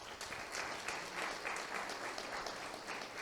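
A church congregation claps in steady, rhythmic applause, a dense and moderately distant wash of hands that stays unbroken throughout.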